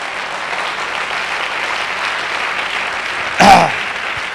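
Audience at a business seminar breaking into steady applause, a wash of crowd clapping throughout with one louder burst near the end.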